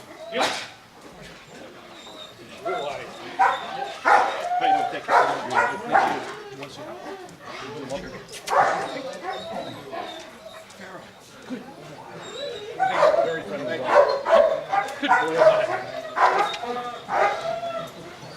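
Police K9 dogs at an event donating dog beds, barking, yipping and whimpering in bursts throughout, fairly close and mixed with crowd noise and people talking.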